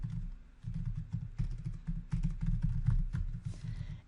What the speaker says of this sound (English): So I'm probably just going to type out the headline.